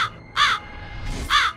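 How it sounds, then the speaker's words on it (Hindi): A crow gives two loud, harsh caws spaced about a second apart, close by against a quiet background. "अब हर एक भोर और सांझ को कौवा झरोखे पर आ बैठता।"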